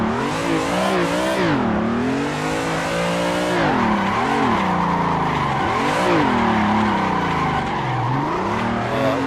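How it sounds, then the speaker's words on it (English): A car drifts around a track in Assetto Corsa, its engine revving hard and rising and falling in pitch while the tyres squeal almost continuously. The sound is loud and close, with no talking. "Keep the drift going."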